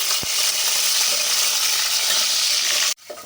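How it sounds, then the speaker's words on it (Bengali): Potato pieces frying in a pan for egg pulao give a loud, steady sizzle that fills the whole stretch, with one low thump near the start and a sudden cut-off near the end. "কয়েকটা টুকরো করা আলু আমি ভেজে নিচ্ছি"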